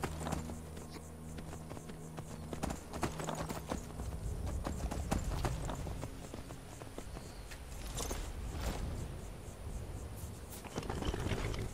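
Steady clip-clop of horse hooves at a walking pace in Skyrim, close and continuous, with game ambient sounds layered underneath.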